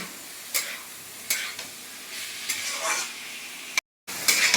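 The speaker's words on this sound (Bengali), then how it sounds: "আলু দিয়ে একটু নাড়ছি।" Potatoes fry in a pan while being stirred, a continuous close sizzle broken by several soft scraping pushes of a spatula and a brief cut-out near the end.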